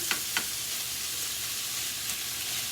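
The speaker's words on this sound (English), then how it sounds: "I am going to add in our Conecuh smoked sausage. And just going to cook this all the way down until our ground beef is done all the way through." Conecuh smoked sausage and ground beef fry in a pan with a steady, soft sizzle, broken early on by a couple of faint clinks from stirring.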